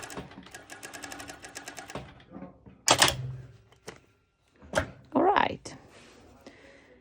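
A sewing machine stitches through several layers of fabric and elastic for a sporty racerback top, running in a rapid close whir before stopping, followed by clicks and handling sounds while someone speaks.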